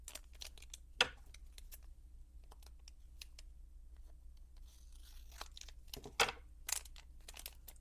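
Scissors cut paper in sparse, quiet snips and crinkles, with a couple of sharper, louder cuts standing out against a hushed room and no voices.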